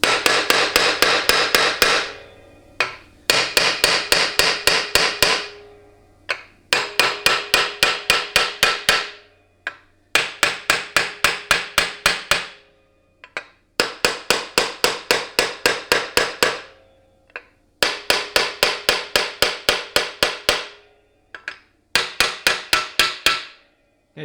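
Steady hammer taps seat a part into a 700R4 automatic transmission case during a rebuild. Sharp, close blows come in quick rhythmic runs of roughly ten strikes each, with brief pauses between runs and no talking.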